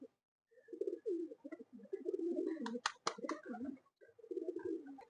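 A Regdar pigeon coos in repeated low, throaty phrases close by, with a few sharp flapping or clattering bursts midway and a short pause before the cooing resumes.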